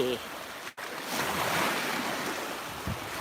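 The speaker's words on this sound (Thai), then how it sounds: "ก็แค่มาทะเล" Ocean waves wash steadily onto a beach, a continuous broad surf roar mixed with gusty wind buffeting the microphone.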